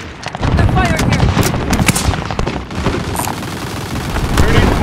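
Dense automatic gunfire and explosions in the Call of Duty Warzone video game, loud rapid bursts overlapping with booms, with game voice callouts mixed in.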